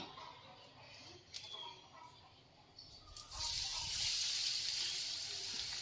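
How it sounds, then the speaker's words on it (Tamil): Quiet kitchen sounds give way to a loud, steady sizzle of ivy gourd frying in hot oil that continues to the end. "நம்ம இப்போ இதை போட்டு பொரிச்சிடலாம்"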